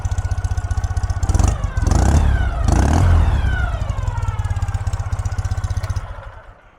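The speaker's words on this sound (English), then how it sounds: "Really excellent throttle response with those carburetors." A 2013 Ural Gear Up motorcycle with a near-new carbureted engine revs up three times from idle, sharp throttle blips rising and falling over a close, steady idle that fades at the end.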